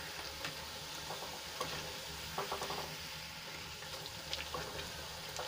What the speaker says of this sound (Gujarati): અને બંને બાજુથી આપણે એકદમ સરસ રીતે ક્રિસ્પી કરી લેવાની છે.